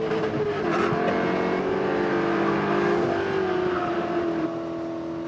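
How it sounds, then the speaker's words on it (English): A Spec Corvette race car at Chuckwalla Valley Raceway holds its engine at high RPM, a loud sustained droning whine that stays steady with a slight dip in pitch, heard from inside or close to the car. "you could hear Howe trying to keep the RPMs up"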